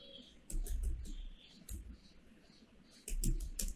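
Computer keyboard typing in short bursts of quick clicky keystrokes, close and fairly faint, with pauses between the bursts.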